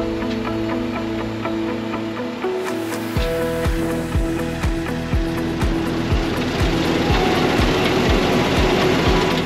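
A MacDon M 1170 NT5 swather drives through a field with a steady engine drone that picks up partway through. A fast, regular mechanical thumping then runs beneath it, loud and close, with no speech.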